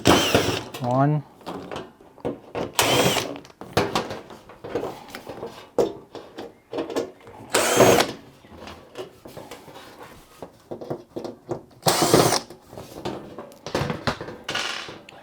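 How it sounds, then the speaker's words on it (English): Screws being undone on the spike plate at the back of an LG washing machine, heard as a few short, loud mechanical bursts spaced several seconds apart, with someone talking throughout. "undo the 4 screws that are holding the spike plate"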